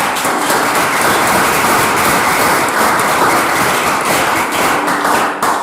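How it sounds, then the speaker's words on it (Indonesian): Classmates in a school lesson give hearty applause for a student's presentation, a loud, continuous wash of clapping that holds steady for several seconds before cutting off at the end. "Kita beri tepuk tangan yang meriah untuk Mas Raya."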